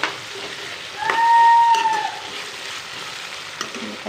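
Ginger garlic paste sizzles and fries steadily in a hot pan while being stirred, a bright whistle-like tone rising briefly in the middle, with scraping stirs over a constant hiss.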